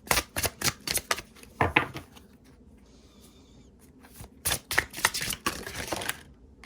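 Tarot cards are shuffled close up in rapid riffling bursts, with a brief quiet gap in the middle before a second round of shuffling.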